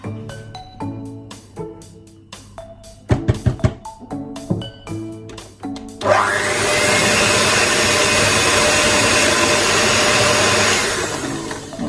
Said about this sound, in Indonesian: Mixer lagi sebentar aja.